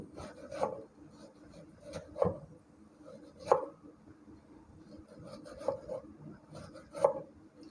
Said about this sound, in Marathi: आता असंच आपण टॅमॅटो पण चिरून घ्यायचा आहे